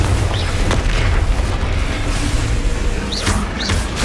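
Confringo blasting spells explode during combat in the Hogwarts Legacy video game, a loud continuous booming barrage with dense low rumble and sharp bursts and crackles layered over it throughout, no voices heard.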